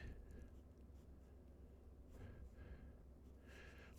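Marker strokes on a whiteboard during an organic chemistry lecture, a few short squeaky scribbling bursts spaced apart over a steady low room hum, fairly faint and close.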